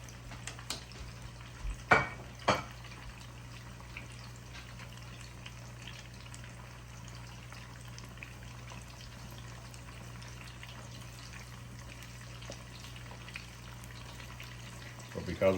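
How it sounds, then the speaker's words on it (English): Frog legs double frying in hot oil give a steady, low bubbling sizzle throughout, with a couple of brief clinks near the start and occasional soft background voices. "But because we're double frying this"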